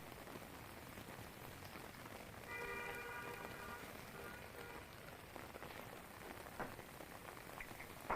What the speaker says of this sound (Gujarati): મોડી સાંજે રાજપીપળા નજીકના વિસ્તારોમાં વરસાદ ખાબક્યો।